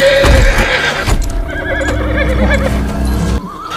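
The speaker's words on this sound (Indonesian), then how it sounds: "Dan sebagai hukuman atas pengkhianatan Tom, Evie pun merubah ayah Tom menjadi seekor kuda putih yang selama ini ia tunggangi." A white horse neighs loudly and close by, a long wavering whinny with faint hoof clip-clops beneath it.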